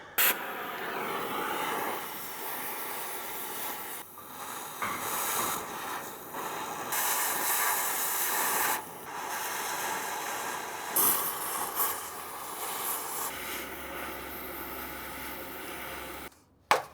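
An oxy-acetylene torch cuts through a steel tank track pin on a Canadian Ram Kangaroo, giving a continuous roaring hiss with bursts and shifts in intensity over about seventeen seconds.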